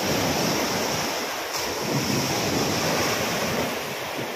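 Steady roar of ocean surf with wind buffeting the microphone, continuous and loud, no voices.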